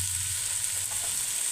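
Chopped vegetables cook in a pan for potato poha, giving a steady, even hiss of frying oil, close and moderately quiet, with no stirring clatter or voices.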